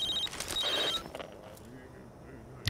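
A telephone rings in an action video game, a shrill electronic trill sounding in two quick bursts under a bit of background game noise before fading out.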